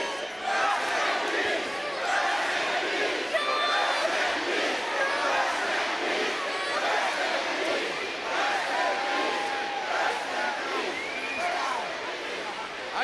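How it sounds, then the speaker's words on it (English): A capacity wrestling arena crowd cheering and roaring continuously, with dense layered voices, shouts and whistles swelling throughout, loud and enveloping. "Listen to this capacity crowd."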